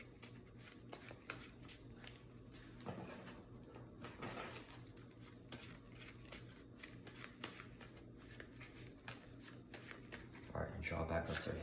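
Marvel Champions game cards riffle and snap in repeated quick bursts, fairly faint and close, with birds cooing in the background.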